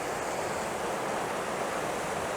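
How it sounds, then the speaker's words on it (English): A waterfall in Glencoe pours over rocks, giving a steady, full rushing roar with no pauses and no voices. "there's a lovely bit of waterfall there"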